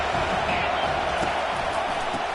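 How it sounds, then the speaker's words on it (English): A stadium crowd in an American football video game keeps up a continuous, even roar of distant cheering, faint and unbroken with no standout shouts. "This crowd bringing the energy and noise early."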